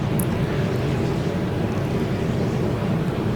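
Steady low engine drone of a Dr Doom LEGO plane flying in LEGO Fortnite, a continuous broadband rumble with airy whoosh, loud and constant throughout with no talk.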